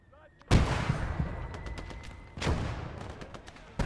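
Artillery shells land in Gates of Hell: Ostfront with two heavy booming impacts about two seconds apart, each trailing off into rumble amid sporadic gunfire.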